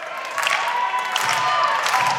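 A crowd at a KWA wrestling event in Hutchinson cheers and claps in a lively, sustained roar.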